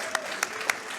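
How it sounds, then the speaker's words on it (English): Brief clapping from an audience thanking panelists at an esports tournament panel, a few sharp, spaced claps standing out over a quiet room. "let's give these guys a round of applause and thank them for their time here"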